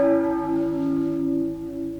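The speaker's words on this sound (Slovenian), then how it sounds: "Ob udarcih na plat zvona je napočil naš čas." A church bell rings out with a loud, sustained tonal strike whose harmonics ring and slowly decay, with a second softer swell partway through.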